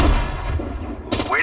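Infantry gunfire in the WWII strategy game Sudden Strike 4, a short burst of shots overlapping a soldier's voice acknowledging orders.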